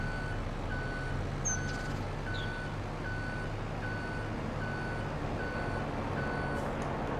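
A truck in Farming Simulator 25 backs up, its reversing alarm giving a steady, evenly spaced series of beeps over a constant low engine drone, with a brief hiss partway through.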